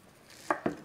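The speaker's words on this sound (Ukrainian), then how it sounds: "Нарізаю такими середніми шматочками." A kitchen knife chops peaches into medium pieces, two sharp crisp cuts against a board in quick succession, close and clear with no talking.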